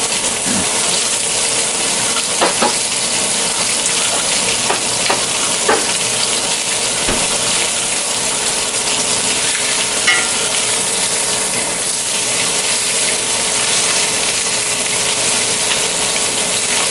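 Trout fries in butter in a skillet with a loud, steady sizzle and bubbling crackle, broken by occasional scrapes and pops, close up and without talk.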